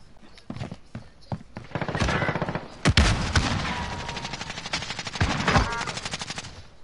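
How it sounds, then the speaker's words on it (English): Rapid bursts of automatic gunfire in a PS4 shooter game, close and loud, with repeated rattling volleys and sharp single shots over a few seconds. "Wow, that's some shit shooting."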